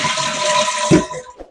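A toilet flushes after its flush valve seal is repaired, a loud close rush of draining water that gurgles and fades within about a second and a half.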